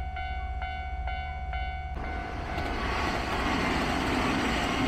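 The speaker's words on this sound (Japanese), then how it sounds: "和歌山駅の普通電車が浜寺公園1号踏切を通過していきました。" A Nankai Main Line local train bound for Wakayama passes the Hamadera-koen No. 1 level crossing. The crossing bell dings rhythmically over a low hum, then a loud, close rumble of wheels swells and masks the bell.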